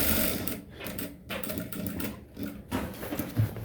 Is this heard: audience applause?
no